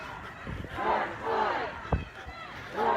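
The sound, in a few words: crowd of protesters marching and chanting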